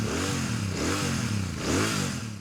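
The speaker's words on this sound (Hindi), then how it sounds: "सुना देते हैं आपको इसका एग्जॉस्ट नोट इस सुपर मीटियोर" A Royal Enfield Super Meteor 650 with its 650 cc twin engine revs close by, its deep exhaust note rising and falling through a couple of throttle blips, with no talking.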